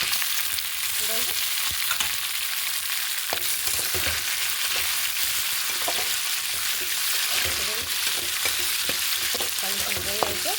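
Tomatoes sizzle and fry in a pan for semiya upma, a steady crackling hiss that runs throughout, with occasional scrapes and clicks of a spoon stirring close by.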